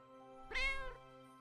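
A hidden cat in Hidden Paws, Christmas Islands level, gives a single clear, fairly quiet meow of about half a second over a faint, steady musical background.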